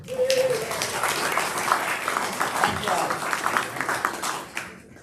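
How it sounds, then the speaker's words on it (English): An audience applauds a guest speaker being welcomed at a community talk, with dense clapping running steadily throughout and voices murmuring beneath it, before fading out at the end. "I appreciate the applause."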